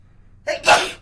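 A single sharp sneeze with a short intake of breath before it, close and loud in an otherwise quiet space.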